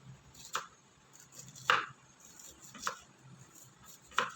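A knife slices a red onion into rings on a board for pizza bread, giving four spaced, crisp chopping taps at an even, unhurried pace, fairly quiet and close with no voices.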